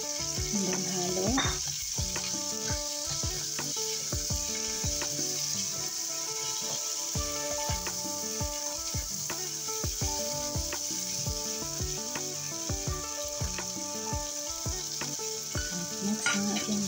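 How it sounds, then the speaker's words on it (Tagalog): Shrimp frying in a hot pan for garlic butter shrimp, a dense continuous sizzle broken by a regular run of spatula knocks and scrapes as the pan is stirred, close and steady with no talking. "pwede na natin ilagay ang ating hipon. And then halo."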